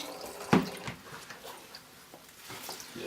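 A homemade wine mixture of fruit and juice is poured into a jar, giving a brief splash followed by soft trickling and dripping liquid nearby with no talk.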